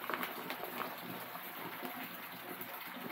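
Water boils in a pot before rice goes in, giving a soft, continuous bubbling hiss with no voices.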